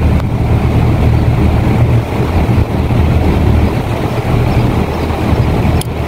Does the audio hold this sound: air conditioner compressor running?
yes